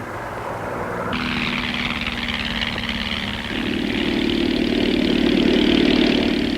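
A small bush plane's propeller engine hums steadily on a glacier in an arctic climate, then its pitch and loudness step up as the motor is throttled higher, droning on without voices.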